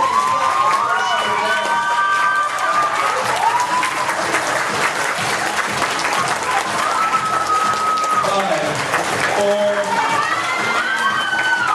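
An audience at a hypnosis comedy show claps loudly and continuously, with cheers, whoops and shouts rising over the steady applause.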